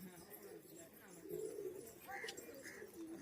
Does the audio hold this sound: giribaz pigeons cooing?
yes